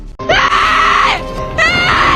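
A woman screams loudly from atop a tall abandoned relay tower, two long sustained high-pitched cries separated by a short break, close and alone with no other voices.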